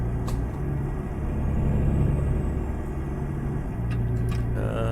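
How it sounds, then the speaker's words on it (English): A truck engine rumbles continuously in a trucking simulator game, a heavy low drone that holds steady and shifts slightly in pitch, with a brief hiss near the end. "I'd like to be slightly louder than the truck when it's making noise."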